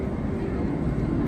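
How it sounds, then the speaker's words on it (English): A plane approaching to land at sunset in Cairns, Queensland, Australia, heard as a steady low engine rumble that stays fairly even and distant throughout. "There's a plane coming in."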